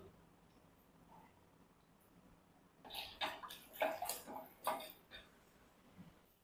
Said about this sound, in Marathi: यानंतर नारळाचेही दूध यामध्ये ओतूया